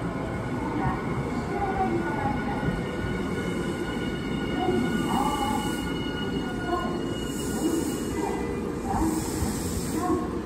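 A Nankai 8000 series and 12000 series Southern Premium limited express train arrives at Izumisano station, with steady close wheel rumble, a brake hiss and high squealing over the platform.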